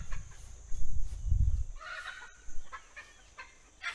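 Chickens in a garden cluck in short, scattered calls, fairly close and moderately loud, with a brief low rumble early on and no talk.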